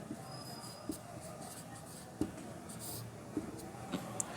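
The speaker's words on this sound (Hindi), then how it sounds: "तो अब मैं इसमें सॉल्यूशन लिखता हूँ।" A pen scratches out a physics solution on paper, with soft, sparse strokes and small taps against quiet room noise.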